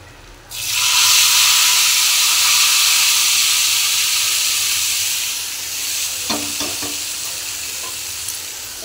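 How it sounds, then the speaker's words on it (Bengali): Hot tempering spices are poured into a finished dish and burst into a loud, sudden sizzle close by, a steady hiss that slowly fades, with a few faint clinks of stirring near the end. "ফোড়নটা আমি ঢেলে দেব।"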